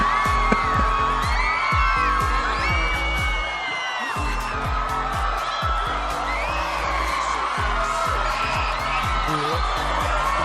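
A large crowd of fans screams and cheers continuously, a dense wall of shrill whoops and shrieks with thumping music beneath, loud and sustained for the whole stretch.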